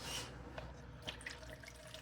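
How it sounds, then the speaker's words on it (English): Tap water runs into a jar for fermenting jalapeños in brine, a soft, steady trickle with faint splashes and drips, heard up close and quiet. "we're going to add water"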